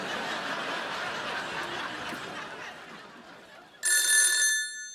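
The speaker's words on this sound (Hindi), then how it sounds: "एक मिनट रुको, मैं फोन लगाता हूँ।" A phone ring sounds briefly and clearly near the end, after a stretch of faint background noise.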